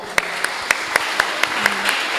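Applause for a guest at a talk-show event, with a hiss of many clapping hands and a few sharp, evenly spaced claps standing out nearby.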